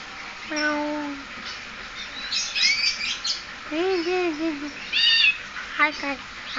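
A mimicking bird produces a series of cat-style meows mixed with shorter chirpy, squeaky notes, in quick irregular bursts at close range, with no voices.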